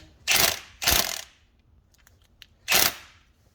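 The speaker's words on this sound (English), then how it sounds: "I'll just hit it with an impact gun" An impact gun works on the front wheel hub nut of a 2021 Ford F250 4x4, firing three short, sharp rattling bursts up close, the first two back to back and the third after a pause with faint clicks.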